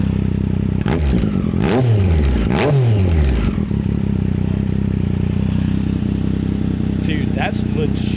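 A Triumph Street Triple fitted with an SC Project Moto2 exhaust blips through three sharp revs with a whining, rising-and-falling note, then settles into a rumbling idle, heard close up with a person talking over it.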